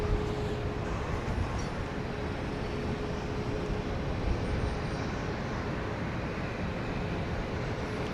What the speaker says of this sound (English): 293 from Houston Hobby Airport in Embraer 145 on a hazy Saturday night